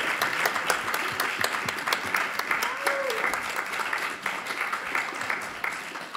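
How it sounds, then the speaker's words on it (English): Audience at a university talk event applauding a student crew, steady dense clapping from a room full of people that thins slightly near the end, with a brief voice mid-way. "Give them a round of applause."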